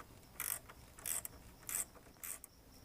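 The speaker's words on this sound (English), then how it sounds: "Now we're going to tighten down the intake clamp on the inlet." A ratchet clicks in four short, quick bursts while tightening an intake clamp on a turbo inlet. The sound is close and quiet, with no talking.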